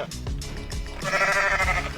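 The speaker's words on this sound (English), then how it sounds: "I'm just gonna do goat sounds in front of this guy before he gets annihilated" A goat bleats loudly and nearby in the video game Goat Simulator, a wavering drawn-out cry over low rumbling background noise.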